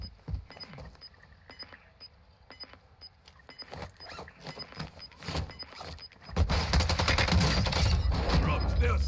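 Warzone 2 combat brings scattered distant shots and rattles, then a loud, dense burst of close automatic gunfire that dominates the final few seconds.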